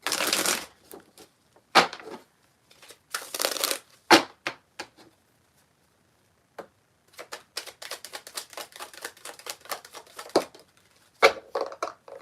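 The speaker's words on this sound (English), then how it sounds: "Now I'm using my Divine Guidance Oracle deck." Someone shuffles a Divine Guidance Oracle card deck during a live tarot reading: quick, crisp riffling bursts come in separate clusters with short silent pauses between them, close and clear with no talking.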